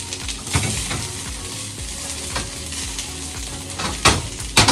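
Scrambled eggs stirred and frying in a pan at close range, a steady sizzle broken by repeated scraping stirs and a few sharper clinks near the end.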